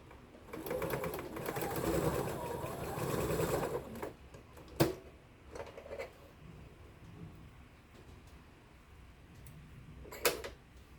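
A sewing machine runs for about three seconds, stitching a quarter-inch seam on a quilt block with a fast, steady whir. Quiet handling clicks and light taps follow.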